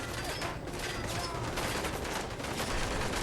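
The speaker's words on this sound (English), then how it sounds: "Where the fuck am I getting shot from?" Rapid gunfire from the video game Fallout 4 crackles in dense, continuous bursts, loud and busy for the whole short stretch.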